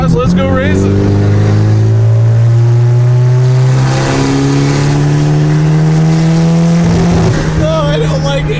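Ross's big turbo station wagon engine revs hard and accelerates, a loud rising drone that climbs steadily through one long pull before easing off, close to the mic.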